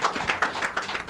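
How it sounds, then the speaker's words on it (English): A crowd claps for an engineer at a lively call-in programme gathering, with a brief burst of mixed clapping that stays close and steady and carries no speech. "Make one clap for Engineer Fortune."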